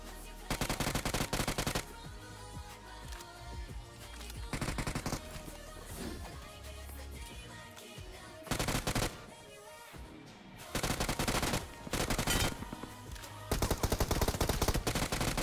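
Gunfire in the mobile battle royale game BGMI, rapid automatic bursts repeating in several loud clusters separated by quieter gaps.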